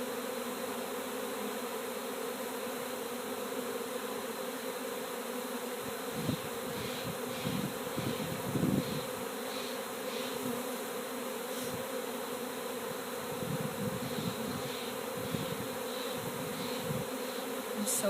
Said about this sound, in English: Bees are so awesome.